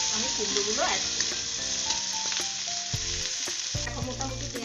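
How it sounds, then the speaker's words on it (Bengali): Chopped onion frying in a pan with steady close sizzling, broken by a few spatula scrapes and knocks against the pan. "এখন মোটামুটি পেঁয়াজ আমার ভাজা হয়ে গেছে, আমার যতটুকু দরকার"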